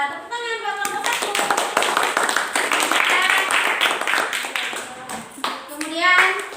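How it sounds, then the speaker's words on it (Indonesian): Classroom applause for the first student group presenting during a teaching practice lesson, a burst of many hands clapping steadily for several seconds while children's voices chatter underneath. "tepuk tangan buat kelompok 1"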